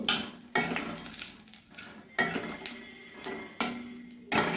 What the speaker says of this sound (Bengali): পাঁচফোড়ন একটা তেজপাতা আর শুকনো লঙ্কা ফোড়ন দিলাম ফোড়নটা আমি ভালোভাবে ভেজে নেব